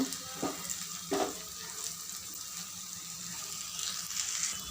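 Low-heat frying of thankuni leaf fritters in oil gives a gentle, continuous sizzle, broken by a couple of quick utensil clinks as they are turned, with a slight rise in crackling toward the end.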